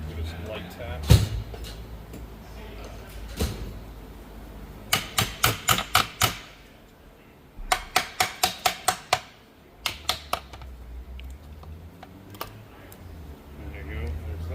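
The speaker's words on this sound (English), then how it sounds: "Maybe a hammer. Give it some light taps." A hammer lightly taps the shifter selector on a 1989 Honda Prelude manual transmission during disassembly, giving several rapid bursts of sharp metallic clicks, clustered in groups of five or six, close and distinct.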